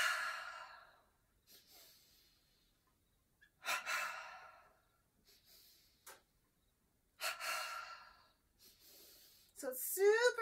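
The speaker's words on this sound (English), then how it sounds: "double inhale, if you like, or stay with the long breath" Slow, deep breathing during a side stretching energization exercise, several long audible inhales and exhales separated by quiet pauses, close and soft.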